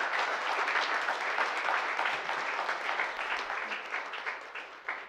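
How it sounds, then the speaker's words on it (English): An audience at a data artistry tournament final gives an extended round of applause for two designers, dense steady clapping that gradually thins toward the end. "this is an extra large round of applause, I believe, that is due to Manoj and Faisal"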